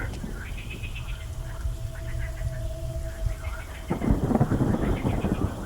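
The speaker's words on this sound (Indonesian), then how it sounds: "dibarengi dengan gerimis hujan dan suara petir" Low thunder rumbles through light rain, swelling louder near the end, with a faint tonal hum in the background.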